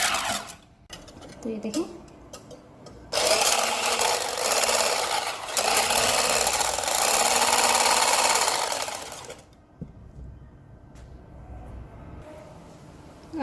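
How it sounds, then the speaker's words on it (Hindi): An electric hand beater whips egg whites into cream in a bowl, a loud steady whirring drone running for several seconds before cutting off, with someone speaking briefly before it starts. "मैं इसे बीटर की मदद से बनाऊंगी। चलाते हैं बीटर।"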